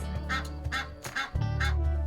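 A goose honks in a few short nasal calls, near and fairly loud, heard in a children's puppet show about farm animals, with a low droning hum underneath.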